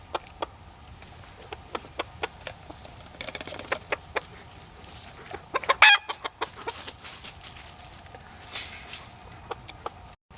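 Chickens cluck and squawk in short scattered calls while being fed a mash of grain, milk and bacon grease in a snowy front yard in subzero cold, with one louder outburst midway.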